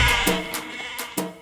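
Sheep and goats bleat in several short, loud calls, a few overlapping, repeating at a steady pace close by with no talking.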